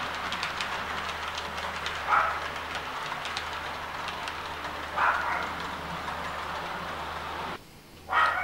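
A model railway train runs steadily along the track with a soft continuous rumble and light rhythmic clicking, with a few brief higher tones along the way.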